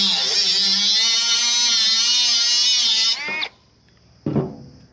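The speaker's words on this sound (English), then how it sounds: "I'm just gonna get the die grinder cut right around this so that the sleeve sits down there" A die grinder spins at a high, steady whine while cutting around a coilover shock spring perch on a turbo Honda Civic, then winds down sharply and stops, followed by a brief clatter of metal.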